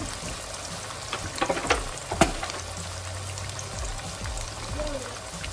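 A pork chop cooks in a pan with a low frying sizzle, a cluster of clinks and scrapes near the start, then a steady hiss as faint voices murmur beneath.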